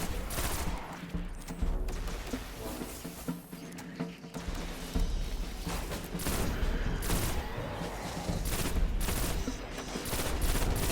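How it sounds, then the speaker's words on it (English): Rapid bursts of enemy gunfire in the video game Destiny, dense and continuous throughout, with a loud shooter-style mix of overlapping shots and game effects and no voices. "screw these guys taking pot shots at me"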